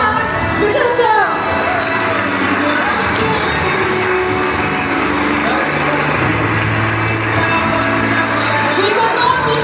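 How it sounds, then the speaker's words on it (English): A large crowd at a Republic Day celebration cheers and shouts continuously, with children's voices and whoops mixed into a loud, dense roar that holds steady throughout; distinct clapping is hard to pick out. "Give a big round of applause to our Indian cricket team and the national flag"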